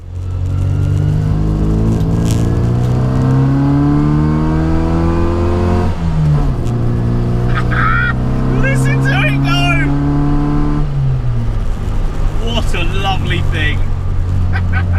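A classic Mini's small engine hums and revs from inside the cabin on a country road, pitch climbing through gears and dropping on shifts, with bursts of engine roar throughout.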